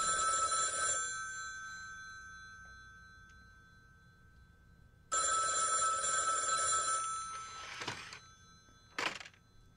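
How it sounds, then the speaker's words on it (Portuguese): Old-fashioned telephone bell ringing loudly in two long bursts separated by a pause of several seconds, followed by a couple of dull thunks like the receiver being handled. "Meu telefone que tocou. que raiva! Esse telefone!"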